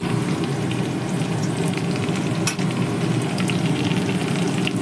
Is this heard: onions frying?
yes